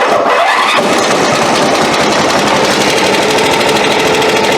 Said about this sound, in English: So this thing fires right up, not even needing choke.